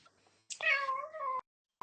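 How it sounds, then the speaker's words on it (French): A cat lets out a single drawn-out meow, close and clear, with quiet surroundings before and after. "Et donc il y a un petit chat."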